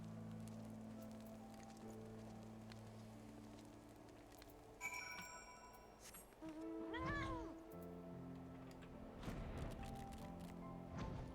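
A cat meows in the video game Final Fantasy XIV, a short cluster of rising and falling game-cat cries midway, over steady background music with some low ambient game sound around it.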